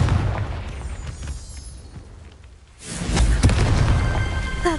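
An explosive Confringo fire spell in the Hogwarts Legacy game goes off with a loud, sustained booming burst after a quieter lull, its rumble and crackling debris carrying on to the end.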